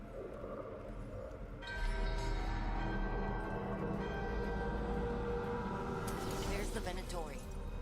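A bell being woken by a ritual in a video game swells into a sustained, resonant ringing drone after a quieter start, with voices speaking over it.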